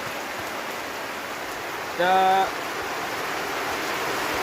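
Steady rain falls in a village, a broad even hiss of drops running throughout, with a short burst of a voice speaking briefly over it midway.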